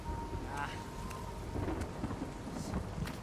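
Heavy rain and rolling thunder in the video game Uncharted 4, a dense continuous storm with a few sharper cracks, and no one talking.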